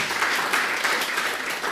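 Brief audience applause at an award ceremony, a short stretch of steady clapping heard at moderate distance with no talk over it.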